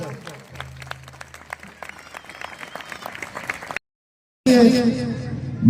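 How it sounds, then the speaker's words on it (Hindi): An audience claps for Geeta at a Geeta Jayanti religious gathering, with steady clapping mixed under a speaking voice. It breaks off into a brief silence, followed by a louder, different sound. "दोनों हाथ उठा के भरपूर ताली गीता जी के नाम पर।"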